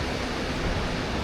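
Steady, dense rush of a waterfall and river flowing through a forest in British Columbia near Vancouver, a continuous broadband roar with no breaks, fairly close and unbroken throughout.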